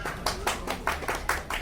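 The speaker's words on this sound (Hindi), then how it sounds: "जोरदार तालियों से स्वागत।" A few people clap in a quick, uneven handful of bursts at a cooperative society's annual function, close and fairly faint, about seven distinct claps.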